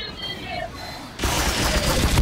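Gunfire in the video game Team Fortress 2, a sudden loud burst of shots starting midway and continuing dense and close, after a quieter stretch.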